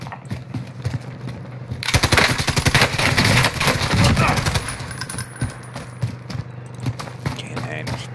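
Rapid automatic gunfire from a gun in the Call of Duty Warzone video game, a loud sustained burst that then tapers into scattered shots under game sounds and voices.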